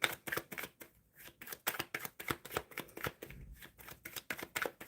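Tarot cards being shuffled, a fast run of crisp riffling flutters and taps with short pauses, close and fairly quiet.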